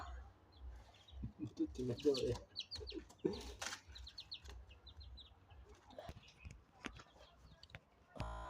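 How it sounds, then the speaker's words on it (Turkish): Small chicks peep and cheep in quick scattered bursts while pecking about, close by, with soft scratching and a low background hum. "Civcivler yem arıyor."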